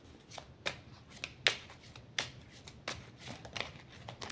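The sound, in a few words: shuffling a deck of cards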